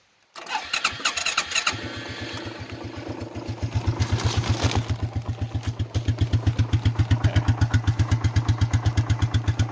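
A 1992 Quadrunner 300 ATV engine cold-starts without choke, catching after a few cranking pulses and settling into a loud, steady, rapid idle that firms up and stays close.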